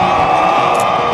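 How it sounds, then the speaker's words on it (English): Stadium crowd at a PIAA Class 2A high school football championship game, Central Clarion Wildcats, giving a steady, loud wash of cheering and roaring that holds at an even level throughout without a break. "You can hear that crowd"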